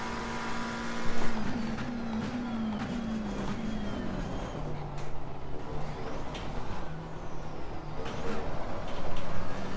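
McLaren 720S Evo race car lapping Spa flat out in a racing game, its engine whine climbing and falling through gear changes over a steady roar, with faint talk under it at moments.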